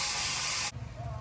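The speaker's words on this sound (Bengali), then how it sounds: "জল দিয়ে দিলাম" Water poured into a hot wok over fried cauliflower with prawns and cumin powder gives a loud, broad hissing burst for about half a second, then drops abruptly to a softer simmering bubble.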